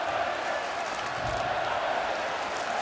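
A crowd at a Russia–Sweden ice hockey world championship game in Royal Arena swells with cheering, a broad roar that stays steady and fairly distant beneath a commentator's voice.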